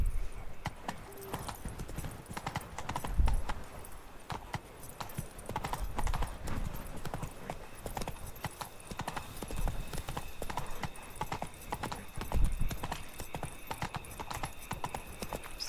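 Hooves of the horse Roach clip-clopping steadily in The Witcher 3, a continuous quiet trotting rhythm with a few louder thuds, under soft game ambience and a brief voice.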